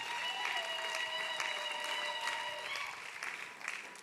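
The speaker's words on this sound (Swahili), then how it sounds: "Mshangilie Bwana kwa makofi" A church congregation applauding together, dense steady clapping that fills the room, with a sustained musical tone underneath and no one speaking.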